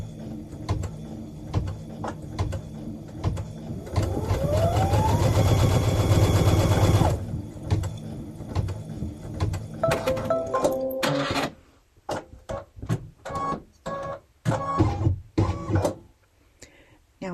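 An embroidery sewing machine stitches a potholder design, its motor running as a steady loud mechanical whir with a rising pitch sweep, then breaking into uneven clattering bursts and pauses as the stitching slows and stops.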